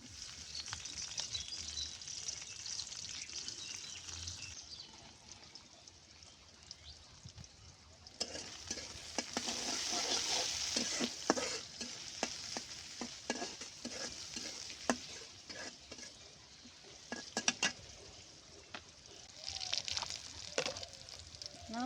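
Sliced onion and green chilies fry in oil in a pan, a faint, low-level sizzle with frequent stirring scrapes and clinks. Louder bursts of crackling come and go throughout.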